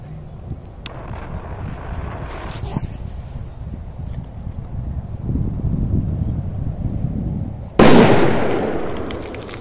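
A big firecracker detonates near a lake, a sudden loud boom that rolls away into a long fading rumble, preceded by several seconds of wind and low outdoor noise.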